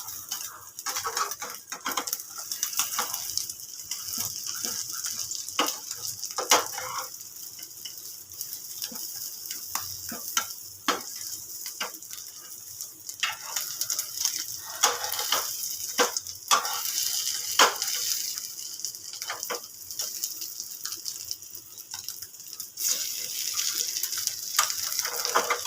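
An egg paratha (Mughlai paratha) fries in a pan with soft, continuous crackling and patter, close and fairly quiet, with brief bright spits scattered throughout.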